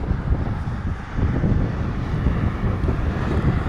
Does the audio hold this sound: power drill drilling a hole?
no